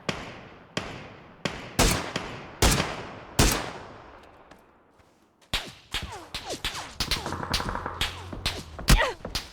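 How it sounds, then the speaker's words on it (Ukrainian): Sharp PUBG gunshots on the Vikendi map crack in a rapid series, some single and echoing, then a denser burst of overlapping fire. "З лівої общаги вроді стріляються."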